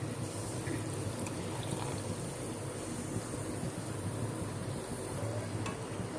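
Cornflour mixed with water being poured into a pan of prawn manchurian with ketchup, a steady bubbling, sizzling and stirring texture that carries on evenly throughout.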